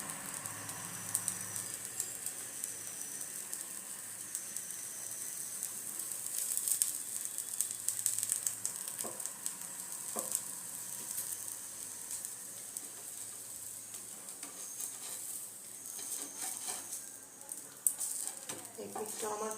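Spicy potato sandwich toasting on a hot tawa griddle, a steady soft sizzle running throughout with faint scraping and a few brief clicks, moderately close and fairly quiet.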